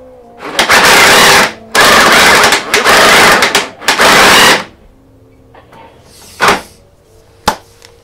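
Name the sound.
drill motor and homemade coupling slipping under too much torque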